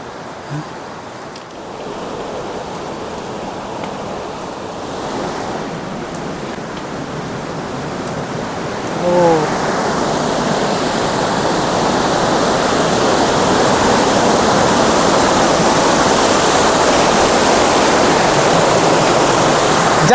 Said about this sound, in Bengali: এখানে জলের ফ্লোটা দেখুন জাস্ট